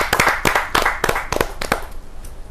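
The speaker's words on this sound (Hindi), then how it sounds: "जोरदार ताली देता" An audience at a Hindi poetry gathering (kavi sammelan) claps in a quick series of about ten sharp, close hand claps that thin out and fade into quiet.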